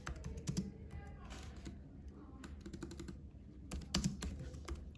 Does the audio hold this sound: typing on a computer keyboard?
yes